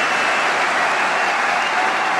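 A table tennis crowd at the 2012 final between Zhang Jike and Timo Boll bursts into loud, dense applause, a sustained roar of clapping filling the whole moment without any voices on top.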